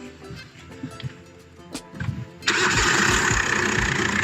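An engine cranks briefly and catches, then settles into a steady, loud idle after a few quiet clicks and knocks.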